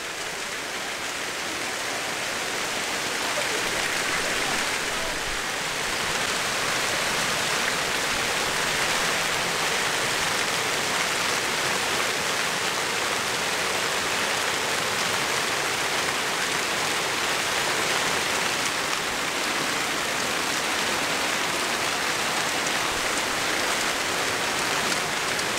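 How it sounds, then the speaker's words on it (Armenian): Hail pelting down at Lake Sevan, a steady, dense, even roar of countless impacts that builds slightly at the start and then holds unbroken and loud throughout. "Այս կարկուտ։"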